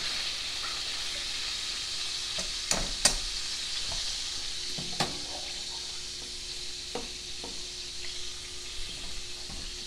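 Swedish meatballs cooking in a pan give a continuous close sizzle and hiss, broken by a handful of sharp clicks and scrapes from stirring, with no voices.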